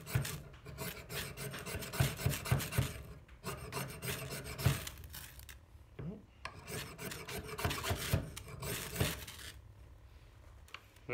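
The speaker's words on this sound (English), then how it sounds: "We're going to see if we can get this to ignite on a ferro rod." A ferro rod is struck repeatedly over fire starter shavings with pine sap, giving close, harsh scraping rasps in uneven bursts with brief pauses.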